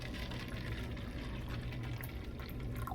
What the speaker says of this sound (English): So I'm just going to pour into the cup